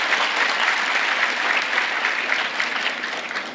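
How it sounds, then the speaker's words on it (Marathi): A brief burst of audience applause for an elderly grandfather at a poetry gathering, dense and steady clapping from a crowd lasting a few seconds before tapering off. "एकदा आजोबांसाठी टाळ्या वाजवावं"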